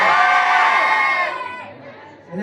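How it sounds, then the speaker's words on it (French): Concert crowd at a Paris pop show shouting and screaming together, a loud dense roar that swells and then fades toward the end, with a voice rising again at the close. "Je veux entendre vos voix, vous avez intérêt à crier."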